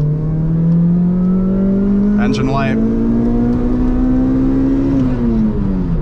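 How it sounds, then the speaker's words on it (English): A supercharged Toyota Corolla XRS engine revs steadily upward in second gear toward 8,000 rpm, the whine climbing for several seconds before easing off, with a brief voice speaking over it partway through. "We'll do another second gear pull."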